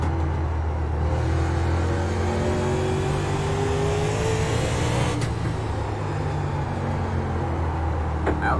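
A race car at full throttle on the Lanier oval track screams along with a rising engine note that sweeps past, followed by a continuous low rumble of more cars at moderate distance, no voices.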